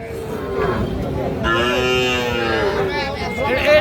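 A calf moos loudly and close by at a crowded cattle market in Faridpur, one long, drawn-out low call with a second rising call, while people chatter in the background.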